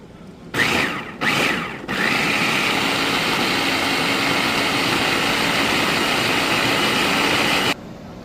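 A food processor purees cooked cauliflower for soup inside an RV, starting with two short loud pulses and then running as a steady, loud motor whir for several seconds before cutting off.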